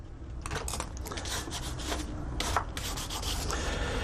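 Metal sheet rubbed down with an abrasive cloth, producing a close, steady scratchy rasping in repeated back-and-forth strokes of varying strength, with no voices.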